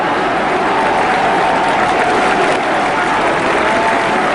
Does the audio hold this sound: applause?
yes